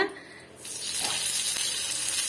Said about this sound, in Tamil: இதுல வந்து நான் கருவேப்பிலையை வந்து சேர்த்துக்க பாருங்க